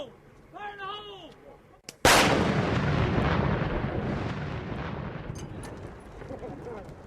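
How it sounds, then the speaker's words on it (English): A controlled blast set off by an infantry company in Iraq: a shouted voice, then one sudden, very loud explosion that booms close by and rolls into a long, slowly fading rumble. "Be advised, control blast in 1 minute."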